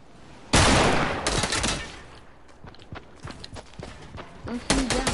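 Gunfire in Fortnite Battle Royale: a loud close burst of shots at first, then scattered lighter shots and clicks, with a voice talking over the in-game action.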